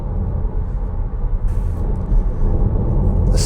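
A Tesla Model Y Performance accelerates hard, heard from inside as a loud, steady low rumble of road and tyre noise with a faint rising whine, and no engine note.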